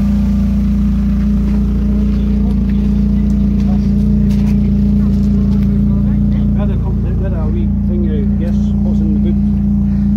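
The engine of a Rover 820 car runs at a steady low hum, loud and constant, with people talking over it.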